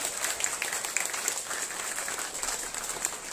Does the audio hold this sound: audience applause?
yes